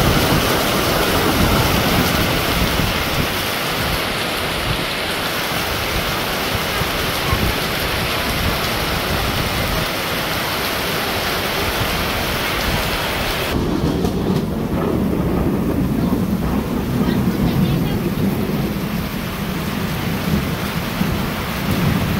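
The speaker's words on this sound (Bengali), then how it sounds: "বৃষ্টির অবস্থা খুব ভয়াবহ আজকাল ঝিলকি বানছে বেশি" Heavy rain pours steadily in a Bangladeshi village during a thunderstorm with lightning, a dense loud roar of water on surfaces with deep thunder rumbling underneath, and the texture shifts partway through as the downpour changes.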